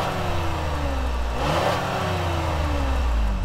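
A 2018 Cadillac XT5 Platinum AWD with a 3.6-liter V6 and 8-speed automatic accelerates, its engine droning steadily with a rising pitch and a brief swell midway, heard from inside the car with no talk.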